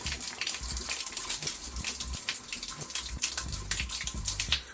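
Engine oil pours from an open drain plug with the filler cap left on, a steady gushing, bubbly gurgle with irregular glugs as air bubbles in, close and continuous.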